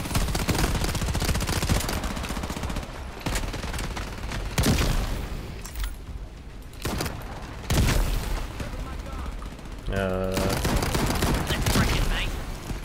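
Sustained automatic gunfire from the shooter game Shatterline, loud rapid bursts broken by short pauses and heavy booms, with a mechanical whir toward the end.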